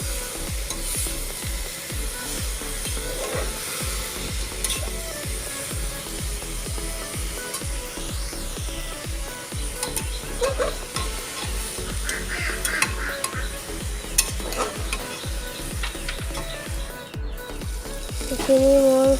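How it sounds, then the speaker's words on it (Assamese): Chopped banana flower (koldil) fries in an open pressure cooker under steady, rhythmic scraping strokes of a spatula, over a low, continuous sizzle close by. "এইখিনি মই অলপ টাইম ভাজি ল'ম, ডাইৰেক্ট চিটি মাৰিব নিদিওঁ।"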